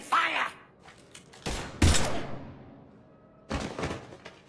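Bursts of gunfire in the sci-fi shooter Mass Effect 3, three sharp volleys with thudding impacts spaced across a few seconds, a voice briefly heard at the start.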